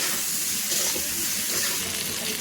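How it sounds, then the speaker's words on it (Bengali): Raw mango pieces fry in hot oil for a pickle, giving a loud, dense, continuous sizzle and hiss up close with no pause and no voices. "আমটা একটু ভালো করে তেলে কষিয়ে নেব"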